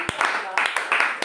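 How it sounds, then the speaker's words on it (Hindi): Congregation at a Hindi-language Christian worship gathering claps in welcome, several loud bursts of handclaps in uneven clusters, with voices mixed in. "हम उनका स्वागत तालियों से"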